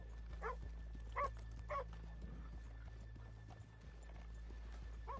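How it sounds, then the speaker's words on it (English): Horses in a PS4 video game clop and snort quietly, with a few short whinny-like calls over a low steady hum; faint and close-sounding. "let's leave the horses here off the main drag"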